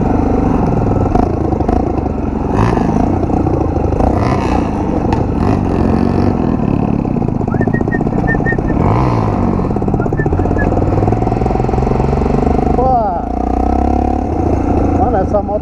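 A dirt-trail motorcycle engine drones loudly and continuously while riding, with rumbling and clattering from the rough ground and a person talking over the noise.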